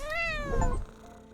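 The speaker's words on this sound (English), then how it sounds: "it opens to reveal an unimpressed cat with mismatched eyes" A cat with mismatched eyes meows in a video game, a single clear drawn-out meow with a falling pitch, fairly close, followed by a soft low rumble like purring.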